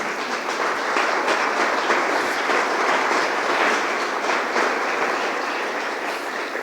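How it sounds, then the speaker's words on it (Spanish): Steady applause fills a church service as the congregation claps together, a dense, even wash of hand claps holding at a constant level for several seconds without talk. "Denle un aplauso al Rey."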